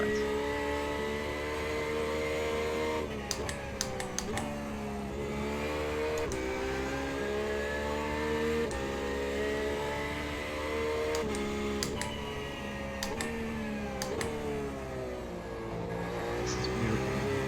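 A race car engine in a sim racing video game revs and accelerates continuously, its pitch climbing and falling through gear changes, with sharp shift clicks and blips over a steady loud drone.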